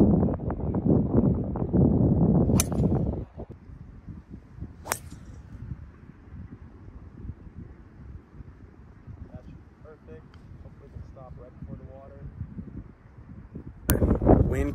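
Strong wind buffets the microphone on a golf course, low rumbling gusts that swell loudly at the start and end with quieter blustery noise between, with a few sharp clicks.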